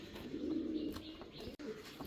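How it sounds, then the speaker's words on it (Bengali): Fancy pigeons cooing in a steady, rolling murmur with a few soft chirps, close and moderately loud, heard without any talk. "কবুতর দুটো সুন্দর আছে"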